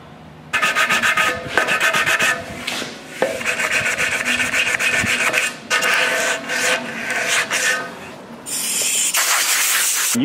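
Bondo body filler is worked into small cracks on a car body, giving a series of close, dry scraping and rubbing strokes broken by brief pauses.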